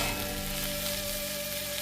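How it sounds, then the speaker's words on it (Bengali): Chopped onions fry in a pan in a home kitchen while chicken masala is being made, a steady, close, dense sizzle with no pauses. "আর এখানে হচ্ছে পেঁয়াজটা আমি হালকা লাল করে ভেজে নিচ্ছি"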